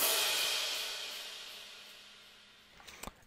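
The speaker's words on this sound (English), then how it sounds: "And then I put a crash in there," A crash cymbal in a hip-hop beat, struck once and left to ring, its bright wash slowly fading over about three seconds before a few quieter drum hits near the end.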